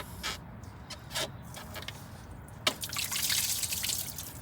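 Coolant drips and trickles from a radiator hose on a Honda Insight during a radiator replacement, a few close drips followed by a short run of liquid splashing, with faint creaks.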